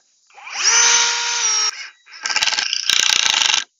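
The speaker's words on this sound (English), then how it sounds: "I'm going to pre-drill out the holes and then screw the pieces together." A power drill whines up to speed and holds a high pitch, pauses briefly, then buzzes again with a rattling, chattering bite as it pre-drills holes in a wooden frame.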